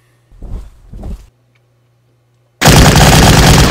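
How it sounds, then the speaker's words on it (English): Gunfire in the war strategy game Battle Academy Market Garden: two short muffled bursts early, a silent gap, then a loud, sustained roar of firing through to the end. "At whom are they shooting?"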